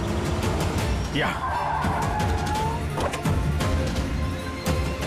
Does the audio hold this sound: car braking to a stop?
yes